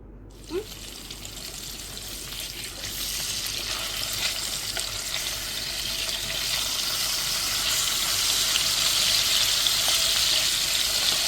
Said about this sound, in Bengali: এবার ওই তেলেই মাছগুলো হালকা করে ভেজে নিতে হবে।